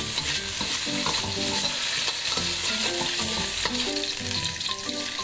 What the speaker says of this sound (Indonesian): kita tumis sisa bawang putihnya hingga harum, baru kemudian kita masukkan kangkungnya